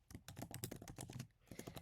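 Quick, uneven keystrokes on a computer keyboard rattle along in close, quiet bursts, with a short pause before the typing resumes.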